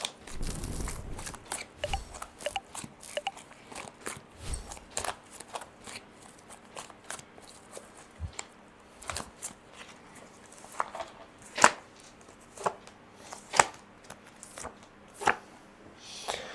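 Tarot cards are shuffled and handled in soft riffles and sharp flicks, with quiet pauses between bursts and occasional louder snaps, close by.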